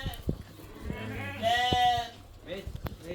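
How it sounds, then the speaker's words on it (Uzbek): Newly arrived sheep on a farm in Namangan region, Uzbekistan, let out a clear, nearby bleat in the middle of the clip, with a few shorter animal calls and some talking around it. "Qo'ylarimiz soni juda ko'p."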